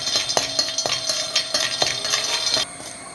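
Around 25 to 30 peanuts are dry-roasted in a pan, giving a close, loud series of rhythmic clattering knocks that stop near the end.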